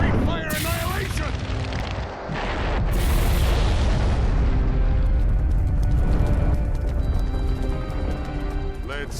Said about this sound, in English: Fire style, great fire annihilation!